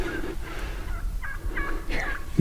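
A wild turkey gobbles repeatedly during a spring bow hunt outdoors, rolling gobbles sounding at a moderate distance over steady wind and ambient noise.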